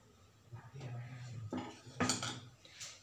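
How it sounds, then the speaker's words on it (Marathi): A tawa griddle is set down in a small home kitchen where chapatis are about to be made, producing a few separate metallic clanks and clatters of cookware over about three seconds, quiet and close. "इथं ठेवलेला आहे मी तवा"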